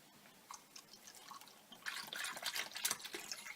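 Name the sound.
rice milk being poured into a measuring cup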